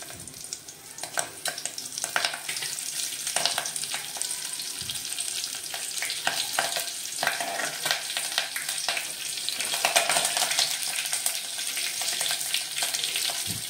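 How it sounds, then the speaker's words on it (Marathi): Cumin seeds and curry leaves frying in hot oil for a spicy Maharashtrian amti, a loud, dense, crackling sizzle with constant spitting pops, close and continuous with no talk. "जिरे भाजल्यानंतर मी त्याच्यामध्ये टाकते कढीपत्ता"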